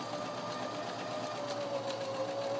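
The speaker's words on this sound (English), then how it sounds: "You're going to backstitch at the beginning and at the end." A sewing machine runs steadily, stitching a quarter-inch seam with backstitching at the start and end, producing a continuous close mechanical whir with no talk.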